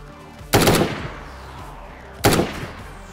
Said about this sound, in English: That's you shooting, yeah?